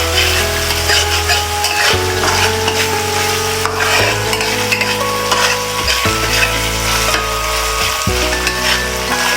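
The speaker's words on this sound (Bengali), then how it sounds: "এই জন্য আলুটা আগে ভাজা দিচ্ছি" Cubed potatoes frying in a pan for a shrimp ball vegetable curry, a loud continuous sizzle broken by repeated stirring scrapes at roughly two-second intervals.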